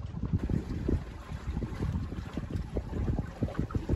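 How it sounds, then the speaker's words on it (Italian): Headwind buffets a small battery-powered boat crossing a lagoon near Venice, roaring in irregular gusty bursts against the microphone with a low rumbling undertone. "c'è un vento contrario, addirittura c'ho un po' di ondina"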